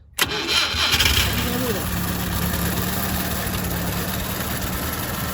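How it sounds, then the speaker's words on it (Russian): Homemade dump tractor with a front bucket, its engine cranking on a push-button starter and catching at once, then settling into a steady, loud, close idle that runs on alone. "Итак, трактор заводится с кнопки."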